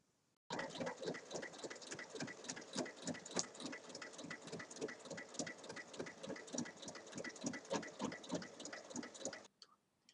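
A sewing machine runs steadily, topstitching around the zipper of a large multi-pocket bag, its needle clattering in a fast, even rhythm close by before it stops abruptly near the end, with no talk.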